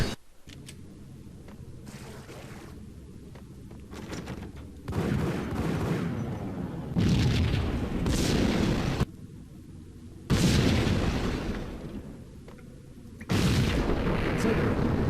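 Explosions and gunfire ring out in the video game Max Payne inside a building packed with explosives. Loud, broadband blasts come in repeated bursts over about fifteen seconds, with quieter rumbling stretches between them.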